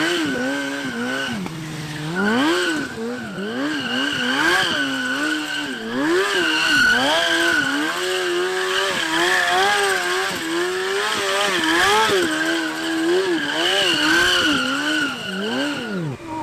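A car drifts in both directions with sustained, loud tire squeal and skidding whose pitch rises and falls over a revving engine, continuous throughout.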